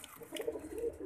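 A finely spotted, dense-patterned pigeon with a maroon ring coos softly in short murmuring phrases, quiet and close, with no talk over it.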